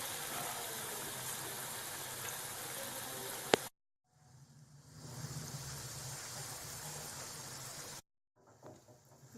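Moong dal pakoda bhaji fry in a pan of hot oil with a steady, broadband sizzling hiss that cuts out briefly twice and then resumes, with a single sharp click partway through.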